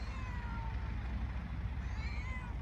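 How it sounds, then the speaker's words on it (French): A cat meows outdoors under a full moon in drawn-out, wavering calls over a steady low background rumble like distant traffic, with no speech. "nous avons ici un chat qui vient me dire bonjour à la pleine lune"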